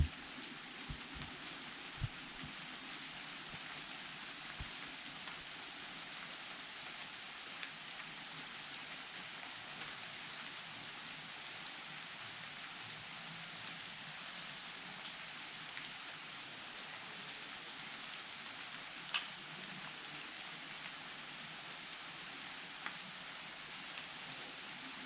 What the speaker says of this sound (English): Well, I also love rain in the forest.